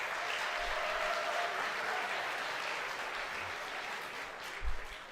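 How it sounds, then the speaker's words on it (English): An audience at a Saskatchewan Polytechnic morning gift announcement event applauds, a dense, steady wash of clapping from a large crowd that holds evenly for several seconds before easing, with a brief thump near the end. "Give yourselves a hand."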